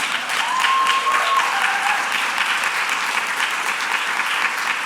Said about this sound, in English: I'm gonna need extra time because of the loving applause of our family that's gathered here.